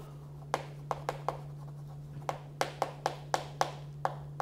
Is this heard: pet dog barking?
no